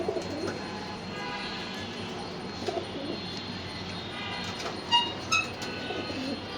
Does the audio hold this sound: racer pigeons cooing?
yes